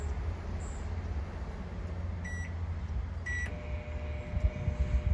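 A Walmart microwave oven fires pottery with a steady low hum, and a few short beeps sound partway through.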